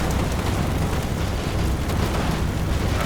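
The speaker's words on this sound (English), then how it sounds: "Bazooka hit the tree." A bazooka round exploding against a tree in a World War II strategy game, a loud dense rumbling blast that rolls on for several seconds without a clear decay, with no talk over it.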